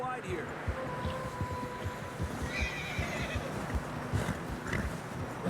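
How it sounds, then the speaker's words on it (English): A horse whinnies and snorts while its hooves clop through fresh snow in the Red Dead Redemption 2 video game, with game characters talking over the steady hoofbeats. "Horses are getting tired."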